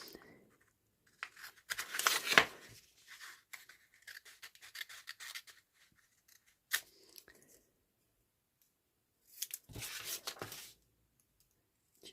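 Scissors snipping through book-page paper while making seed-packet-style envelopes, a few short close cutting and crinkling bursts separated by long quiet gaps.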